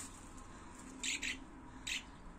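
Swift chick raised on a balcony, giving three short, shrill, high calls in quick succession, close but quiet over a low background hum.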